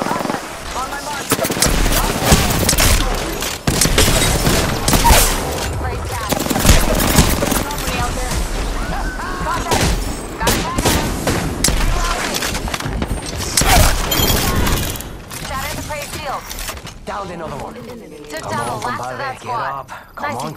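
Gunfire in the Apex Legends video game: rapid automatic bursts and single shots crackle loudly in dense clusters, mixed with impacts and game effects, while voices talk over the action.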